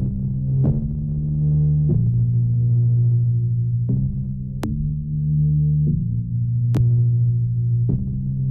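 A bass line run through a Baby Audio Super VHS plugin plays loud, warm sustained low notes changing every second or so, with a couple of faint clicks and nothing else heard.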